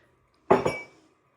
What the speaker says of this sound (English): I do have 4 of these clear glass mugs with Rudolph, or at least a reindeer